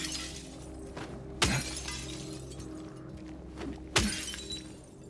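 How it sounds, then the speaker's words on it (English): Glass shatters twice in the Silent Hill 2 video game, two sharp, loud crashes a few seconds apart, each with a brief tinkling tail, over a low steady game ambience. "I was just breaking glass to break it."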